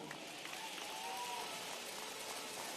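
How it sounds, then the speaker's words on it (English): Crowd applause for a basketball team at a medal ceremony, a steady dense patter of clapping throughout with a faint voice underneath. "Please give a big round of applause for the team of Galatasaray."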